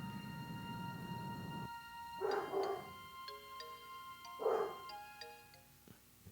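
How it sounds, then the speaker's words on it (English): A dog barks twice, a few seconds apart, in the background. Between the barks, tonal chimes and notes from a Final Fantasy XI game soundtrack play. "Pardon the barking, guys."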